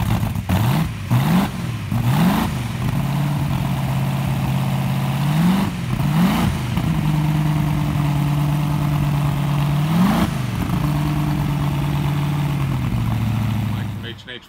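A Ford flathead V8 engine with a Scott blower, Arden intake, 59A block, Scat crank and rods, custom Ross pistons, big 97 carburetors and a Vertex magneto runs loud and close, with repeated throttle blips rising over a steady idle.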